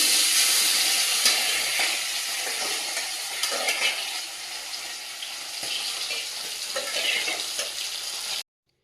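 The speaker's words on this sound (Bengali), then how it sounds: "তেলটা গরম হয়ে গেছে এদিকে মাছগুলো ভেজে নেব" Fish fry in hot oil in a home kitchen, giving a loud, steady, hissing sizzle that runs unbroken for about eight seconds before cutting off abruptly.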